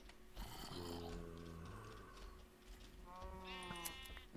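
Sheep bleating in a Minecraft modpack game, two drawn-out bleats with a short gap between them, fairly close and clear against soft game background noise.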